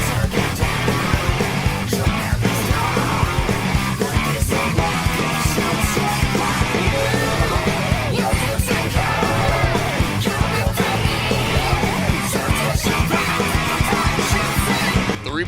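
Heavy metal screams, harsh yelled vocals over a dense, loud, constant wall of distorted guitars and pounding drums.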